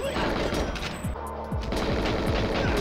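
Rapid automatic gunfire from the N64 game GoldenEye 007 sounds in steady bursts of crackling shots, loud and continuous over a game soundtrack.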